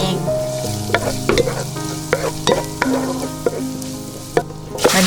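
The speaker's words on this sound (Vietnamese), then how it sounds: "đảo đều cho tỏi vàng." Minced garlic frying in hot pork lard in a pot, a steady close sizzle punctuated by regular scraping knocks as it is stirred, with no talking.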